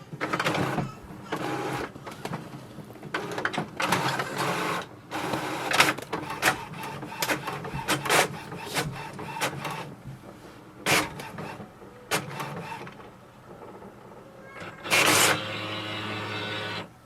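An HP OfficeJet Pro 8025 inkjet printer makes a copy nearby, whirring and clicking through a series of mechanical bursts with short pauses, ending in a louder feed.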